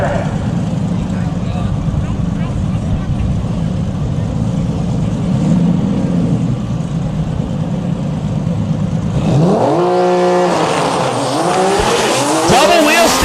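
A drag race car at a DCT World Cup event makes a solo pass down the left side of the track, a loud roaring launch that builds into a rising engine howl, with an announcer talking throughout.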